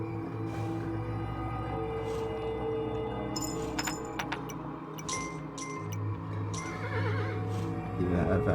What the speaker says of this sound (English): that was just the horse again